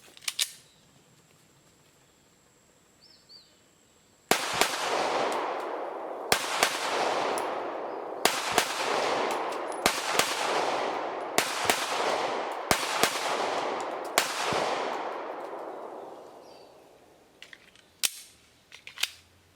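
Quiet at first, then a string of sharp, loud reports from an IWI Masada 9S 9mm pistol, about eight evenly spaced shots each with a long echoing decay, then a few more close shots near the end.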